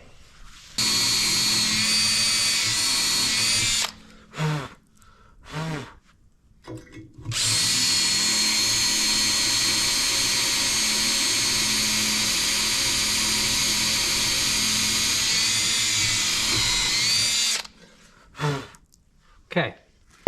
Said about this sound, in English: got that broken bolt drilled out